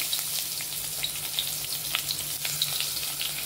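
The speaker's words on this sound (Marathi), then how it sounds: "त्याच्यानंतर आपण हा चिरलेला कांदा टाकणार आहे." Chopped onion with turmeric and asafoetida sizzles in hot oil for a Marathi-style veg dalcha, a close, steady frying crackle with scattered pops and light stirring, no voices.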